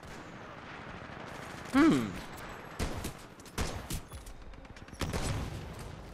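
Shotgun blasts from the Titanfall 2 game in the open beta: one loud, sharp report with a ringing tail, then several quieter bursts of gunfire and clatter, with a brief murmur from a voice.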